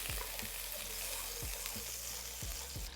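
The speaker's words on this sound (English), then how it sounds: "So let's melt the butter." Unsalted butter melts in a pan with a soft, steady sizzle. A few low thumps of the pan or utensil come through at intervals, and the whole thing stays quiet and close, with no talk.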